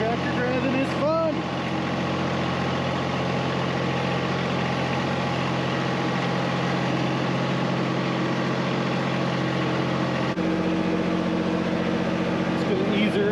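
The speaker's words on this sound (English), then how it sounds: "This tractor driving is fun!" A steady tractor engine idles and rumbles throughout, a continuous low drone with voices talking over it.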